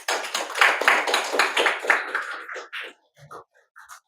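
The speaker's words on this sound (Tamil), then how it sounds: "அவங்களுக்காக எல்லாரும் சேர்ந்து ஒரு பாராட்டு தெரிவிச்சிருமே" An audience gives a short burst of hand clapping at a community gathering. The applause is lively for about two and a half seconds, then thins to a few scattered claps that fade into near silence.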